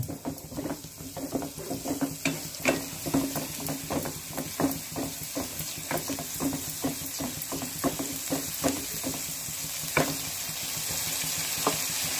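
Tomato puree and onion masala sautéing in a pan for paneer matar sabzi, with steady sizzling and frequent sharp crackles and stirring scrapes throughout, close and moderately loud with no talk.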